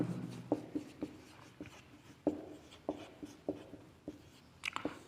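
Marker or chalk writing on a classroom board in a chemistry lesson, a series of soft irregular taps and scratchy strokes, close and fairly quiet.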